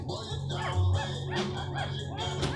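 Newborn XL bully puppies, only a few days old, let out soft whimpers and small yips close by, heard under a person talking throughout.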